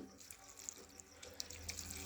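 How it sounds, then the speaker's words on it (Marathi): Steady water running from a tap onto chopped spring onion greens, a continuous hiss with small splashes and clinks, fairly close. "त्याच्यात टाकते मी पाणी।"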